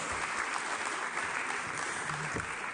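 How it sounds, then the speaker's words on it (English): Audience applause at a stage event fills the room steadily and evenly, a dense wash of many hands clapping at moderate volume with no talk over it. "a round of applause"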